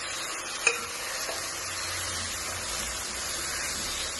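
Beef stirred and frying in a pan with coconut pieces and a little water, a steady close sizzle with soft scraping stirs and one brief clink.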